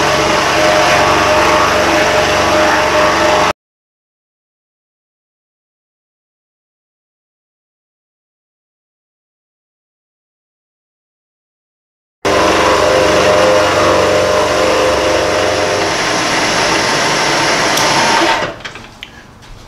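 A Baldor grinder on a stand cuts a workpiece with a loud, steady whine that stops abruptly for several seconds, then resumes at full level and winds down near the end.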